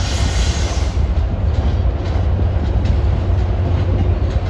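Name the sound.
MBTA commuter train with double-decker cab car passing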